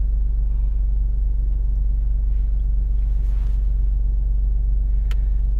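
An Alfa Romeo Stelvio Quadrifoglio in automatic shift mode idles as it waits at a traffic light, its engine and exhaust giving a deep, steady low rumble heard close and unbroken, with a brief faint click near the end.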